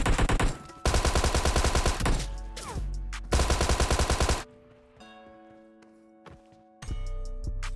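Close-range hip-fire gunfire in PUBG Mobile: loud rapid automatic bursts in several long strings, separated by short gaps and quieter game noise, with no talking.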